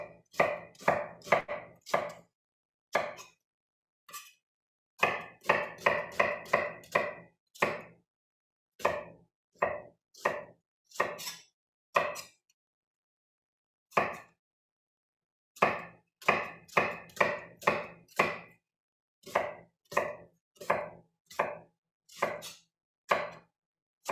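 A knife chops onions on a cutting board for pasties: quick, crisp, close strikes in rapid clustered runs, with brief pauses between batches and no talking.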